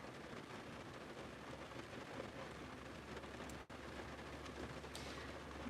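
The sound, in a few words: rain falling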